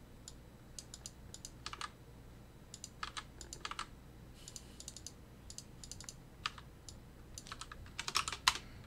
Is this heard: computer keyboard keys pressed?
yes